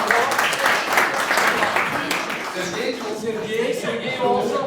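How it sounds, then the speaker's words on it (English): Audience applause for Sochi Olympic Games officials at an event in Lake Placid, a dense, steady wash of many hands clapping close and loud for the whole stretch, with voices mixed in beneath. "So let's give a round of applause"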